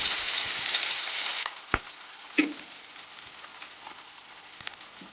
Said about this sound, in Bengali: এবার আমি সেই মাছগুলো ভেজে নেব।